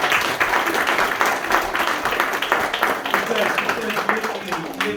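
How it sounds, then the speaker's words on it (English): Steady clapping from a crowd at an under-10s team end-of-season presentation runs throughout, mixed with voices talking over it. "we're just giving him a little clap"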